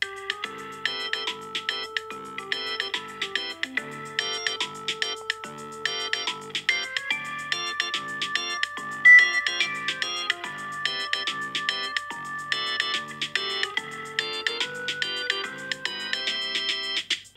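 The iPhone Seaside ringtone plays on its own, a bright, melodic repeating chiming pattern of plucked tones that keeps looping steadily at moderate volume.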